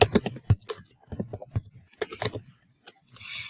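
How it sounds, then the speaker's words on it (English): Code is typed on a computer keyboard in quick, irregular bursts of clicking keystrokes, close and clear, with brief pauses between runs. "typing in that code exactly as we see it"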